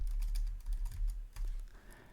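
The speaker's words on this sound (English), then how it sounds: "For this, simply type monthly" Keystrokes on a computer keyboard, a quick run of light clicks at close range followed by a short pause and another brief burst, with no talking.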